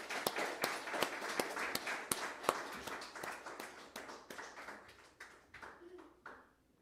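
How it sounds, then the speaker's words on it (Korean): A church congregation claps to encourage the pastor's wife, a rhythmic unison of sharp claps at a steady beat that gradually thins and softens before trailing away, set in a reverberant hall. "우리 사모님에게 다 같이 격려의 박수를"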